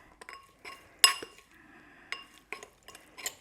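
A spoon clinks and scrapes against a bowl while herb paste for grilled chicken is mixed, a series of sharp, close, irregular taps.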